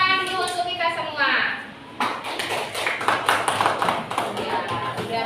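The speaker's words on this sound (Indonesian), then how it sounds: "Tepuk tangan dulu untuk kita semua." A classroom of children claps hands together, a burst of many overlapping claps running steadily after a short stretch of a voice and chatter, close and lively.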